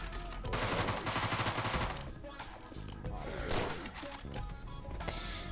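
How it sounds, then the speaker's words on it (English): Rapid Tommy gun fire in the video game Deadbolt rattles in loud automatic bursts, mixed with game effects and someone talking over the shooting. "All you have to do here is use your Tommy gun."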